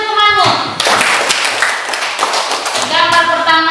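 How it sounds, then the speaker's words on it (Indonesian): A class of students claps for a classmate, a dense burst of hand clapping with a few thumps, framed by a teacher's voice speaking just before and after. "tepuk tangan untuk temanmu"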